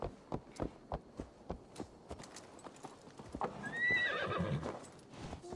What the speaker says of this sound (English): Sorry, I needed to turn the horse around.